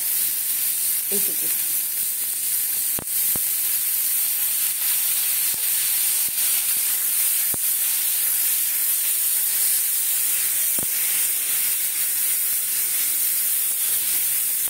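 Ginger-garlic paste sizzles in hot oil with lightly fried mushrooms, a steady close hiss and crackle running without pause, with a few soft knocks of stirring and a brief spoken word near the start.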